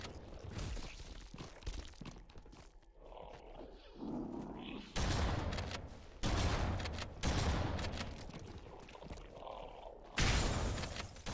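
Bursts of video game gunfire from Halo 1 come in several loud clusters with short gaps between them, mixed with game effects and some speech.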